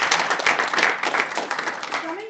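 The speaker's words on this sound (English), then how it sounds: "Give her a round of applause." Audience applause at a joint Toastmasters club meeting in Dubai, a dense burst of many hands clapping close and loud, with voices mixed in beneath the clapping.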